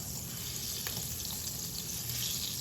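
About four tablespoons of butter sizzle and melt in a hot pan for fettuccine Alfredo, making a steady, even crackling hiss with no talking.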